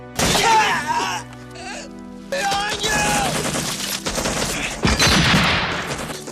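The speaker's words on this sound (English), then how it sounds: "The sudden burst of gunfire, the deafening explosions tearing through the village." Bursts of rapid gunfire crackle and rattle close by, punctuated by heavy booming blasts and shattering debris, with chaotic shouting mixed in.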